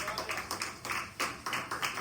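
A church congregation gives applause for Jesus during a sermon, a fairly faint burst of hand claps with an uneven, pulsing rhythm, picked up from a distance.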